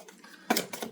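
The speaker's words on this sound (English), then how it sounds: "Oh, I hope that's just bad shuffling" Tarot cards are shuffled at close range, with quick papery riffling bursts over a soft background hiss, including one sharper flurry near the middle.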